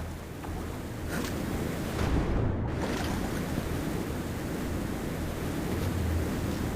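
A waterfall in the video game CULTIC gives a continuous broad rushing roar of falling water, steady and fairly close, with a brief dip in the middle and no voices.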